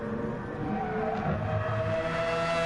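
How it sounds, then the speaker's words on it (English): A Mazda 787B Group C race car with a rotary engine drones steadily at high revs in a racing video game, a continuous buzzing engine note with no voices. "Get fantastic noises that the rotary engine makes"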